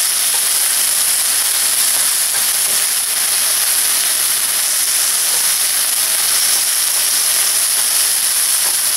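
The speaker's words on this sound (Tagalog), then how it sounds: "balik na rin natin yung ating beef." Beef sizzling loudly on a teppanyaki grill just after being flipped, a constant bright hiss and spatter that stays close and even from start to finish with no voices.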